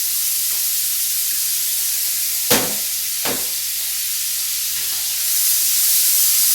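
Already-cooked shrimp tossed in a hot pan with Aleppo sauce give off a steady bright sizzle, broken by two sharp clanks of the pan and a hiss that swells toward the end.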